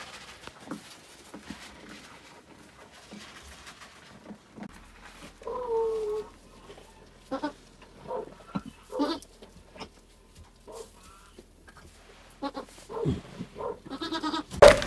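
Sheep bleat repeatedly during lambing, sharp wavering calls near and loud, spaced irregularly with quieter stretches and rustling between them.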